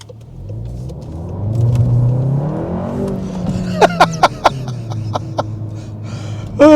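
Car engine revving up as it pulls away, a rising rumble that swells and then settles, close by, followed by a few sharp clicks and knocks near the end.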